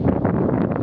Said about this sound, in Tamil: காற்று எதிர்பக்கம் அடிக்குது